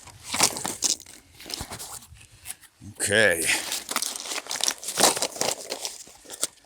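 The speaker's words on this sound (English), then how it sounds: "first box getting dumped in" A box of shotgun shells dumped into the pocket of a Chief upland hunting vest, a burst of clattering, crinkling rattle lasting about a second, close by, between stretches of someone talking.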